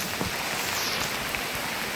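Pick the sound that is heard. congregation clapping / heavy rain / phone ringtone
heavy rain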